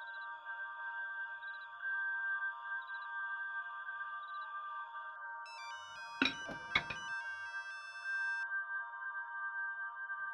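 A phone ringtone plays for an incoming call in a Marathi TV serial, a steady electronic tone repeating for several seconds, briefly overlapped by a louder chime and a couple of thuds.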